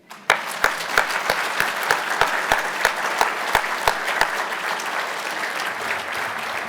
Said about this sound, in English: this is an applause we should give